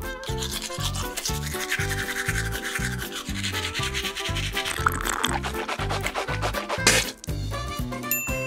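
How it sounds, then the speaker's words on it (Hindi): A toothbrush scrubs teeth with a rhythmic rubbing sound, layered over loud, bouncy background music with a few chimes and tinkles throughout. "अब आपके दांत ब्रश करते हैं"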